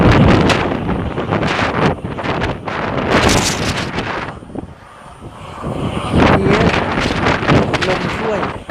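Strong wind roars across the open slopes of Yangmingshan, loud gusty buffeting that swells and dips, battering the microphone close up with no talk.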